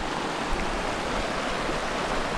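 Stream water rushes steadily across a river crossing near a village on a hillside during rain, a dense, continuous close wash of flowing water with no voices.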